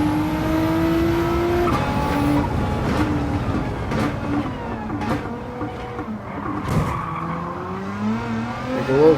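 Toyota GR86 racing in Gran Turismo 7, its engine droning steadily and rising and falling in pitch through gear changes, with occasional tire squeals and other cars close by.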